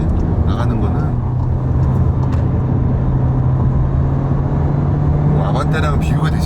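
A 7th-generation Volkswagen Jetta accelerating on the road, a steady engine drone and tyre rumble heard from inside the cabin, loud and continuous, with someone talking over it.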